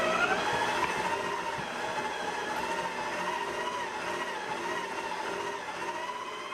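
A VIVOHOME 6-quart stand mixer kneading bread dough, its motor whirring in a steady continuous drone close by, with no talk over it.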